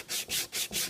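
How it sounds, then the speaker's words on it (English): Four rhythmic back-and-forth strokes of aluminium oxide paper on a sanding block cutting back a wooden mechanical box surface, close and steady. "get my aluminium oxide paper, sanding block, and I'm just going to cut back these"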